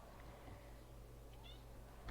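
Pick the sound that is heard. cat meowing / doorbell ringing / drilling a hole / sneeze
cat meowing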